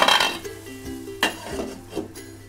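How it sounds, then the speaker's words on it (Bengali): A metal lid is set over a cooking pan of prawns and bottle gourd greens on a low gas flame, with a few close clinks and clanks in quick succession. "আবার ঢাকা দিয়ে দিচ্ছি"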